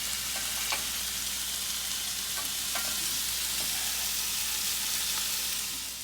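Calf liver fries in a pan with a steady, close sizzle and bubbling crackle, dotted with a few brief pops and scrapes as it keeps cooking, with no talking.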